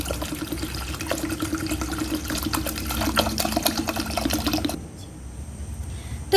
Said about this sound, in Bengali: 1 লিটার জল এতে আমি ঢেলে দেবো